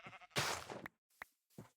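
A Minecraft sheep bleats in a few short, close calls: one long bleat followed by two brief ones, with no talking over them.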